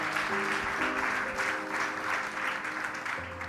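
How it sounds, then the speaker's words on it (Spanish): A church congregation at a Day of Nations service applauds steadily, a dense, continuous wash of clapping from many hands filling the room. "¿Y sabes por qué aplaudes?"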